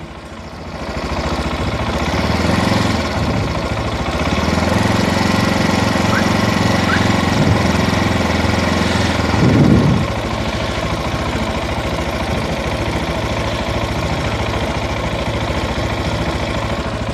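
A Zongshen motorcycle engine runs steadily throughout during a coolant change and system bleed, rising briefly as it's revved partway through, with a droning, buzzy tone and no talking.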